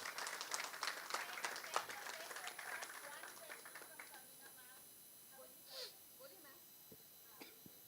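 Applause rings out at a Hindi film trailer launch for the movie Razakar, with a burst of scattered clapping that thins and fades over several seconds, leaving a quieter room with a few stray sounds.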